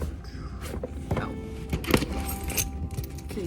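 Keys jangle and clink close by in a home as someone gathers their wallet and sunglasses before heading out to the grocery store, a few bright metallic rattles over a low household background.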